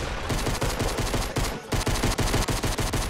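Gunfire in Fortnite Battle Royale rings out in rapid, evenly spaced shots close up, a loud steady rattle broken by a brief pause midway.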